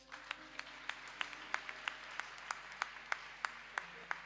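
A church congregation applauds during a service, steady rhythmic clapping at an even beat, clear and moderately close, over a low hum.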